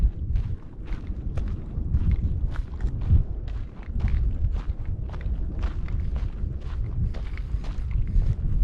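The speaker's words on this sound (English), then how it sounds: "gonna take a quick stroll down a little bit." Footsteps crunch steadily along a dry lake shoreline at Lake Mead, close to the microphone, with a regular walking rhythm and some wind buffeting throughout.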